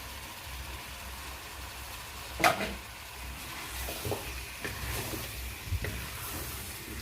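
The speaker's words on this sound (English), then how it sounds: "Then I'm going to put in my green peas here." Green peas stirred into pilau frying in a pan, a soft sizzle with a sharp scrape of the spoon and several lighter stirring knocks, fairly quiet.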